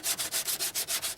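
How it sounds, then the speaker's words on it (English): Bondo body filler on a dented door being sanded by hand with 80 grit sandpaper, close rhythmic back-and-forth scraping strokes, about eight quick passes, with no talking. "Okay, so Wayne, we're sanding it with 80 grit"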